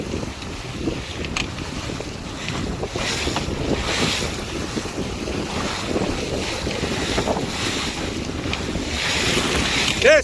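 A boat pitches through choppy water near Plymouth Sound on the River Tamar, wind against tide, with continuous loud wind buffeting the microphone and waves slapping the hull throughout.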